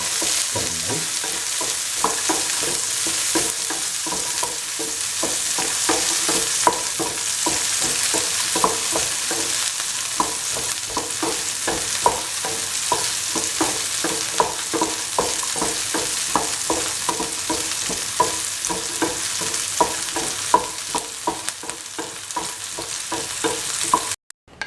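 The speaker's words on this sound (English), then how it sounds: "Now saute for 4 to 5 minutes until the shallot turns caramel." Shallots sauteing in a pan for a mutton coconut milk stew, a steady loud sizzle broken by regular scraping stirs for the full length, with no voices.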